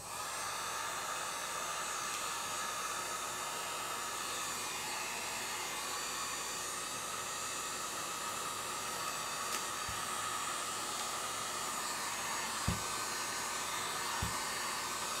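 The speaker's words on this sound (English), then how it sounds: "take my heat gun to them." A heat gun blows steadily on homemade bath bombs, a continuous loud broadband whoosh like a hair dryer running unbroken throughout, with a couple of faint clicks near the end.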